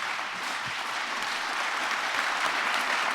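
Audience applauding a housing policy panel at a conference: steady, loud, dense clapping from a large crowd throughout, with no voices standing out.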